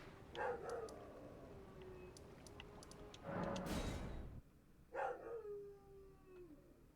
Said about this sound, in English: my dog's very barky